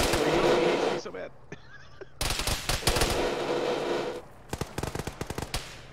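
Machine-gun fire in a tactical military video game, with long sustained bursts and then sharp separate rattling shots, loud and close, mixed with talk.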